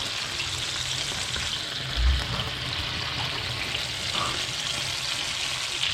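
Italian sausage browning gently in a pan for a one-pan pizzaiola, a soft, steady sizzle and crackle with a brief louder stir or bump partway through.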